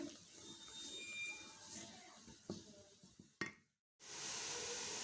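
A spoon scrapes and clinks against a pot of milk cooking down into khoya, with a soft bubbling sizzle and a few sharp knocks, then brief silence before a steady hiss resumes.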